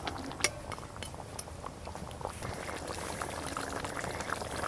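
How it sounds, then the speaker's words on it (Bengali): Silver carp pieces dipped into a simmering spicy Bengali mustard-oil curry gravy give a soft, steady bubbling under light clinks of utensils against the pan, close and continuous. "ঝোলের মধ্যে এভাবে একটু ডুবিয়ে ডুবিয়ে দেবো মাছগুলোকে"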